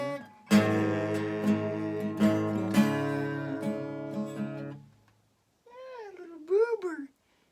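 A cat meows twice in rising and falling cries after a stretch of sustained guitar or voice-like tones, the meows clear and fairly close, standing alone once the music fades.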